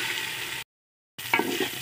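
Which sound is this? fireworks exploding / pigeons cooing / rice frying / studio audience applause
rice frying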